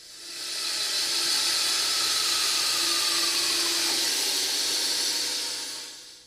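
A Delta Limited Edition Platinum bandsaw with a Carter guide system cuts deep curves in thick stock, giving a steady, close, hissing whine that swells in, holds for several seconds and tapers off.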